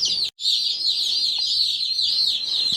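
A dense chorus of high-pitched peeping from many baby chicks in a brooder, continuous and close, broken by a brief click.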